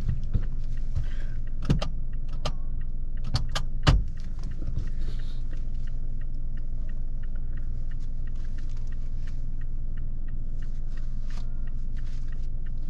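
Car interior while driving, a steady low road rumble and engine hum with occasional sharp clicks and knocks, no talking.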